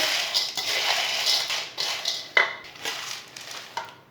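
Roasted chickpeas being stirred into a hot pan mixture while making panjiri laddu, with soft scraping and clinking of a spoon against the pan, several light irregular knocks close by and no talking.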